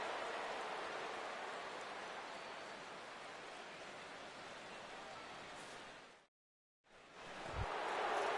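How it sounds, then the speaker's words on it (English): Rain falling on a baseball field in a video game, a steady soft hiss of rainfall that stays even and faint, then cuts out briefly before resuming. "as the rain continues to fall here"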